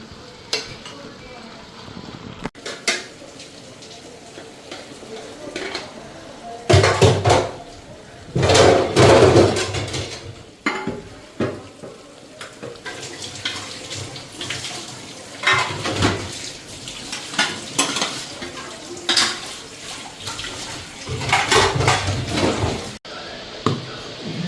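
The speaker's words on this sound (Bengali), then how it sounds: "একটু খালি লাড়া দেওয়া দিই।" Dal fritters (lentil bora) cooked in a pot over a high gas flame are stirred several times, with bursts of scraping and bubbling sizzle, a wet churning texture and steady background noise.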